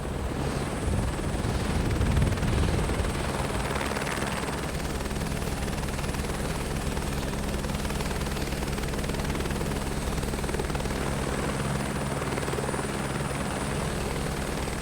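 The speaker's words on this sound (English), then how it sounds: "I'm in a helicopter, not at the hotel." A helicopter in Microsoft Flight Simulator 2024 drones steadily throughout, a low rotor and engine hum with a faint high whine, loudest in the opening seconds and then holding even with no talk.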